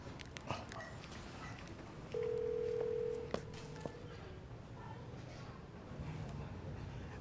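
A telephone calls a landline at home, its steady ringback tone sounding for about a second amid background voices and room noise, with a click as the line connects.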